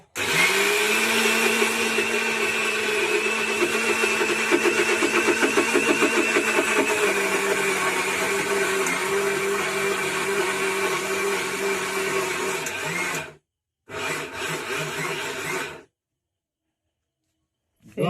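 An electric grinder pulverizes rice with too little water, whining loudly and steadily for about thirteen seconds, stopping, running in one short burst, then falling silent.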